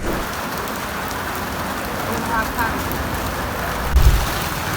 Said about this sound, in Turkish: yağmur şiddetini çok arttırdığı için e, biraz sığınmak zorunda kaldık